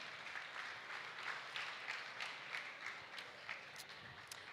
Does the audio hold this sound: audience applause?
yes